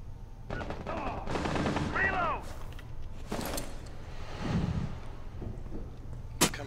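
Gunfire in Rainbow Six Siege on the Kafe Dostoyevsky map during a hostage match: a few sharp, separated shots cracking over a steady game background, with players talking in between.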